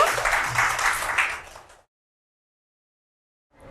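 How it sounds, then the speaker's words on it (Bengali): A class of young pupils bursts into hand clapping, a dense burst of applause lasting under two seconds before stopping abruptly into silence. "চমৎকার একটা হাততালি দিয়ে নিই আগে এতটুকুর জন্য"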